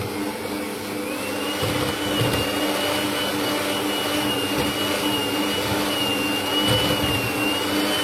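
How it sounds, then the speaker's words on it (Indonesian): An electric mixer beats eggs with sugar for a layered lapis legit cake batter. Its loud, continuous motor whine holds steady from start to finish. "kita akan memixer telur dengan gula, kita akan mixer mentega di tempat lain"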